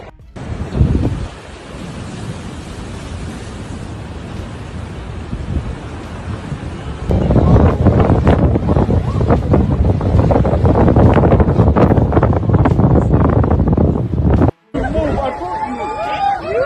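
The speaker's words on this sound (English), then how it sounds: "a strong storm brings high waves that have a bad impact on the entire city." Strong storm wind and high waves battering Cape Town, a loud roaring rush of wind buffeting the microphone with surging water, building heavier midway, with crowd voices mixed in.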